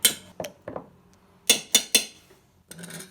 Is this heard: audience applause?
no